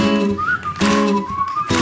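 A whistled melody glides over a band playing steady chords in a song, the whistling bright and clear, rising and falling in short phrases.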